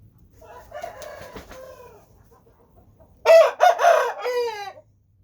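A rooster crows twice, first a fainter, more distant call and then a loud close cock-a-doodle-doo with a few clucks, no talk.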